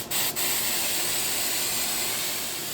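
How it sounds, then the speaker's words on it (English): A short hissing spray of cooking spray butter, close and steady, preceded by two quick bursts, fading slightly at the end. "I'm going to spray it down."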